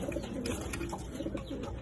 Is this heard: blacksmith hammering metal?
no